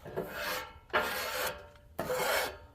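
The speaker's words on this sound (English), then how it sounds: "Got my scraper and another little scrape" A metal scraper is pushed across a hot griddle in three separate rasping strokes, close and fairly quiet, with no talk.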